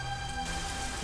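Steady rain falls outside a small home, a continuous even hiss of drops on surfaces with no break, close and moderately loud, with no voices.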